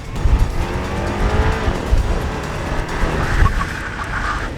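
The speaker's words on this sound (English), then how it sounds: "He's gonna apply the pedal brake and slow down. He's going to pull the emergency brake, release it." Mini Cooper on a driving-school track braking hard with the pedal and then the emergency brake, with a loud engine and sustained tire squeal throughout.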